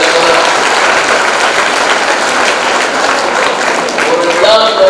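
Audience applause at a college Tamil forum inauguration, a steady dense wash of clapping filling the hall for the full stretch without a break.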